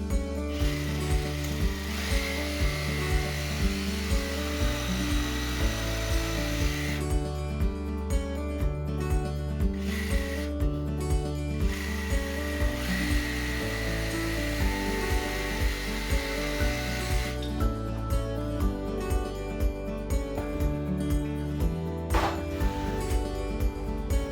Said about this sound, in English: you get your jigsaw, normal wood saw bit in the end, and then you just trim off the lines that you've marked on the rail